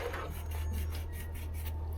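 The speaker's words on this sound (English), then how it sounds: "This is sanding cloth." Sanding cloth mesh rubs against metal in a steady back-and-forth rasp while preparing for soldering, close up and fairly quiet over a constant low hum.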